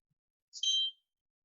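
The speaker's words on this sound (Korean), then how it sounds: "삐 소리 나죠?" A single short, high electronic beep sounds from an AI smart house training kit built on a HaloCode board. It is brief and clean, with silence before and after.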